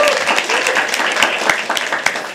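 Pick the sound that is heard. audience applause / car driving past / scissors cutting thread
audience applause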